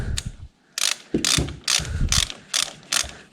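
Ratchet wrench clicking as a 16 mm bolt is tightened into aluminum threads on an engine head of a Chinese 110cc ATV, several short bursts of rapid ratcheting close up with brief pauses between strokes.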